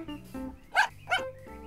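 The cartoon dog Pluto gives two short, close, voiced barks between stretches of background music, with no talk.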